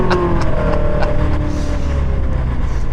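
A 2025 Land Rover Defender OCTA accelerates hard, its engine giving a loud continuous roar with rising tones and steady road and wind noise, no voices over it.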